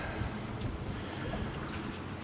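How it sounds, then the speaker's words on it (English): Strong gusty wind on an overcast fishing day buffets the microphone with a dense, roaring rush that swells and dips in gusts throughout. "really windy, strong,"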